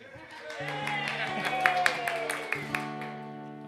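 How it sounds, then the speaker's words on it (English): An audience claps and cheers at a live jug band show, the applause building from quiet into a steady patter with a few sharper claps, while instruments ring out in the background. "And the crowd went crazy."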